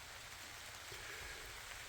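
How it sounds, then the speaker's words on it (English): Light rain falling on a tree canopy on Grand Island, Michigan, a soft, dense, even patter of drops heard faintly and continuously with no voices. "Getting just a touch of rain."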